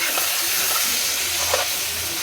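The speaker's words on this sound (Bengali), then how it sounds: "দিয়ে এটা একটু নেড়ে নেবো।" Fried eggplant being stirred into hot spiced oil in a pan for an eggplant and hilsa curry, with a steady loud sizzle and frying hiss and a few spatula scrapes throughout.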